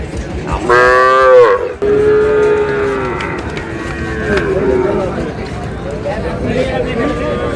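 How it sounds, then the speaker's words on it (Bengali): A five-month-old pied Sahiwal bull calf at a busy cattle market in Dinajpur lets out a loud, close moo, then lower lowing continues under a hubbub of people talking nearby. "শাহিওয়ালের পাকড়া ষাঁড়।"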